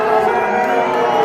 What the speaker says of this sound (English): Crowd booing.